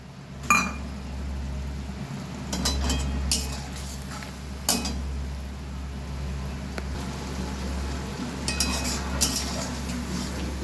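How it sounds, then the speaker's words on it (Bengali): A spice bowl is handled while being rinsed and topped up with water, with a few sharp clinks and knocks of a utensil against the bowl spread over a quiet, steady background hum. "মশলার বাটি ধুয়ে একটু জল দিলাম।"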